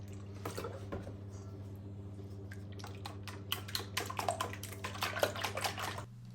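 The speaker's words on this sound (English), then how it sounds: "Once they're thoroughly whisked, get the milk in." Milk is poured into a bowl of whisked eggs for a croissant bread and butter pudding, a soft liquid splashing that grows busier toward the end over a steady low kitchen hum.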